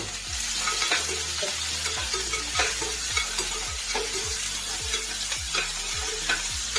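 Onions and green chillies sautéing in a pan, a steady sizzle broken by repeated scraping and stirring strokes of a spatula, close and fairly quiet, with no talking.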